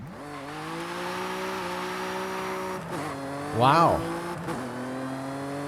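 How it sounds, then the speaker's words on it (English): A modified Jaguar XE S in Forza Horizon 5 accelerates with a steady, droning engine note that climbs at the start and holds, with a short shift dip partway through and an exclaimed voice over it. "Is that a V8? It kind of sounds like one."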